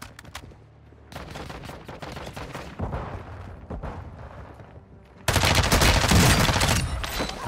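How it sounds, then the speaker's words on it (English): Rapid gunfire in the video game Warzone 2 rattles in dense bursts, growing into a loud, sustained volley near the end, with no voices. "Nah, don't shoot me in my back."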